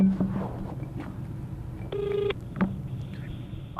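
A telephone call is dialed, giving a few short, clear keypad beeps and a brief tone pulse against faint background noise, with no one talking.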